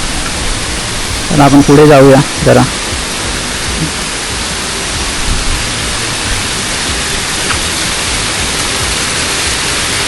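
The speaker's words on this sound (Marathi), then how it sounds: "समोर धबधबा पडतोय" A waterfall at Ganpati Gadad cave pours with a steady, broadband rushing roar, while someone speaks briefly near the start over the constant water noise.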